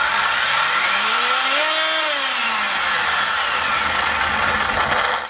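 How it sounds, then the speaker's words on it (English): Loud, steady whirring of a cooling fan on a 4S Slash 4x4 RC street basher fitted with a 1/8th scale motor, continuous and close with a faint pitch swell partway through, no talking. "As you can hear, this loud fan."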